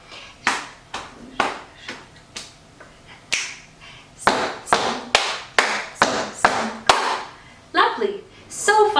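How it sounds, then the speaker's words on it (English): Body percussion routine of stomps, taps and claps played in a steady pattern: a run of sharp, close hits with brief gaps, growing slightly louder and denser partway through, ending in quicker claps. "Stomp, stomp, tap, stomp, stomp, clap"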